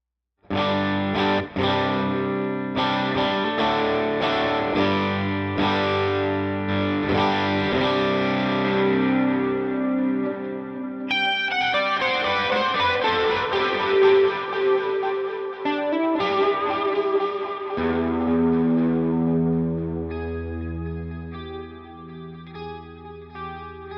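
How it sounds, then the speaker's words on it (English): Electric guitar through the Matchstick amp preset on a Line 6 Pod Go, with distortion and wet chorus or echo effects: loud chords and ringing notes that sustain and trail off into a long decaying tail, with no voices. "my favorite one is the Matchstick, and this is it. And I love it. I love it so much. So this is what it sounds like."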